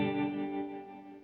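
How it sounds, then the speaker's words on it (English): Electric guitar chord ringing out through a Strymon Flint set with its reverb feeding the tremolo, as in vintage combo amps, the sustained wash pulsing gently in volume as it decays, alone without talk. "the reverberated sound is being affected by the envelope of the tremolo"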